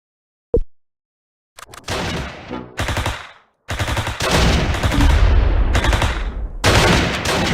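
Automatic and single-shot gunfire in the Close Combat wargame, loud and close, coming in separate bursts and sustained volleys of machine-gun fire one after another, with no talk.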